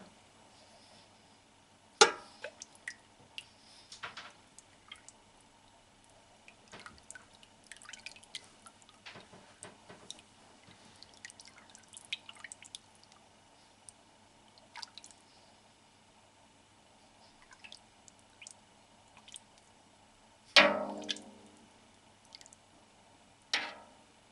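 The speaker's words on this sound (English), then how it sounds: "I'm just going to make sure to stir it well now." Raw sheep's milk with rennet added for Wensleydale cheese is stirred quietly, giving soft sloshes, drips and small liquid squishes, with a couple of louder splashes standing out against a faint steady background.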